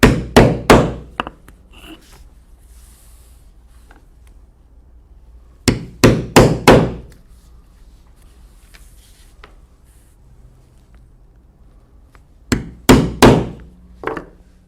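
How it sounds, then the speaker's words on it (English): A punch hammered through a leather belt and its hair-on lining to make concho holes: three separate bursts of three or four sharp, loud close thwacks, quiet pauses between, no voices. "now I will punch 4 holes"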